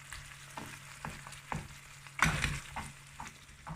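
Fava beans simmer in a pan for ful mudammas, giving a faint, soft sizzle broken by a few stirring or scraping knocks, one of them louder, with no talk.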